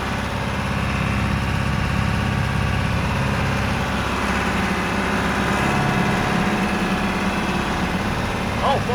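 A John Deere 2510 tractor engine held at PTO speed of about 2100 rpm, a steady, loud, close mechanical drone with a constant low rumble and no break for the whole stretch.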